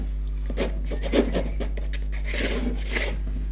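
A fingernail scraping and rubbing at paint on a watercolour painting of London, giving soft, close rasping strokes in short repeated bursts over a steady low hum.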